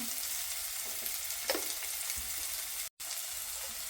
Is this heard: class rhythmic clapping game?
no